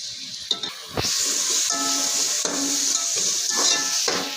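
Tomato and onion frying in a pan for mutton biryani, a steady loud sizzle and hiss with occasional stirring scrapes and spoon knocks.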